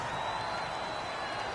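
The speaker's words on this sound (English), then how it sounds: "The crowd's not doing that O-line any favors." Stadium crowd noise at a Texans versus Cowboys football video game, a steady, dense roar of the home crowd with faint speech underneath.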